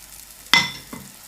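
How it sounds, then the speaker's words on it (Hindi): Batter ladled onto a hot pan over a medium gas flame erupts in a sudden sharp sizzle that quickly fades, followed by a second smaller hiss about half a second later. "2 कड़छी भर के बैटर को डालना है और गैस के फ्लेम को मीडियम रखना है"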